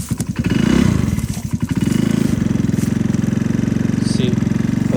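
Talon GSX150 motorcycle engine idling very low, close and loud, with a lumpy, rapid pulsing putter that stumbles and wavers as if close to stalling, steady for several seconds.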